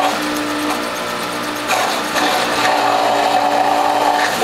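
A juicer press works through halved red and purple bell peppers, giving a loud, continuous mechanical whirring grind with a shift in tone partway through, close up and without talking.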